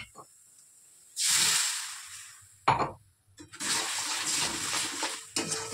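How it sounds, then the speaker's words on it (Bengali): Water poured into chicken masala frying in a pan, giving loud hissing bursts that swell and fade, separated by quieter pauses, with a sharp sizzle at each splash. "চলো জল দিয়ে দিই।"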